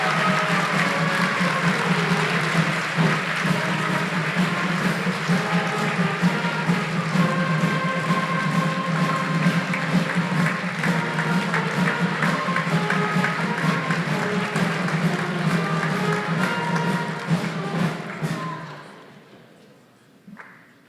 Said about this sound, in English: Please join with me in giving all our honorees a round of applause.